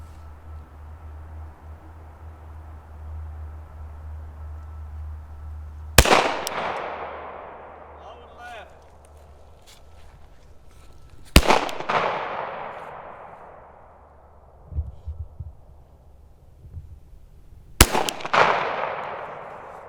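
Three sharp, loud shots from a Sig Sauer P365-Flux pistol carbine, spaced several seconds apart, each with a long decaying echo across an open range, over a low steady background rumble.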